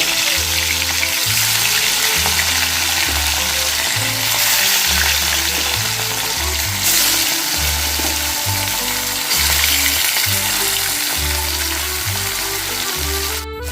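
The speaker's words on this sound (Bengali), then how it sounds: "তেল গরম হয়ে গেছে মাছগুলোকে এক এক করে আমি দিয়ে দিচ্ছি তেলের মধ্যে" Pieces of katla fish fry in hot mustard oil, giving a loud, constant close-up hiss and sizzle that holds steady without pause.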